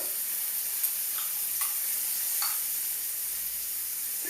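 Red mojo sizzles in a pan as the base for a vegetable paella, a faint steady frying hiss with a few small ticks and pops.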